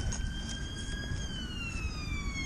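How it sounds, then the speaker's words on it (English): An ambulance siren passes outdoors in Scotland during metal detecting, a fairly faint wailing tone sliding slowly downward in pitch as it recedes, over steady wind and rumble with no talk. "Oh, an ambulance passing."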